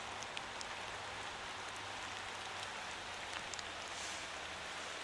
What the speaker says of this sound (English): And now it's raining on the snow.